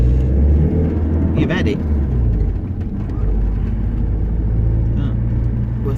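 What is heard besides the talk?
car driving through traffic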